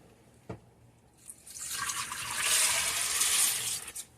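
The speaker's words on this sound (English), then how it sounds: "I'm going to pour this into my crock pot." After a light knock, water and Great Northern beans pour and splash from a bowl into a crock pot for a couple of seconds, a rushing liquid sound that trails off.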